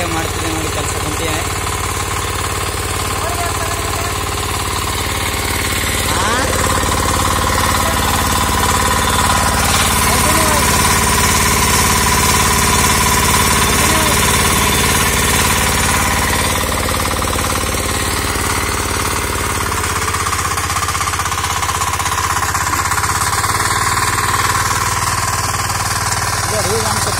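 A 9 hp Agrimart power weeder tills soil in one gear, its engine hammering in a steady, loud, close-up chug that runs throughout, with a voice talking over it.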